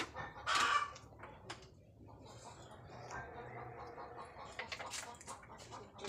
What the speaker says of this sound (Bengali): মা মুরগিতে ডিম দিয়েছে ককর কক ককর কক করছে সিগনাল দিচ্ছে